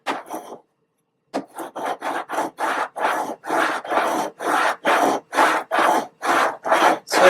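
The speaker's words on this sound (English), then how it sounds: "So I'm going to burnish this" Firm, rhythmic rubbing as transfer tape is burnished onto paper for an espresso press design, a steady run of about a dozen close, even rasping strokes after a short pause, with no talking.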